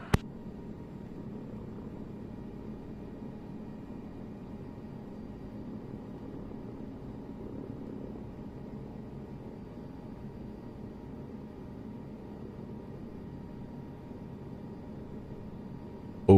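A helicopter hovers steadily about two feet off the ground during flight training in Germany, a continuous close, even rotor-and-engine drone with no talk over it.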